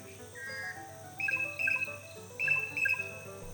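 Racket-tailed drongo mimicking other birds' calls: a run of clear, whistled chirps and tweets, some held and some clipped, arriving in bunched bursts that sound like several different birds calling nearby.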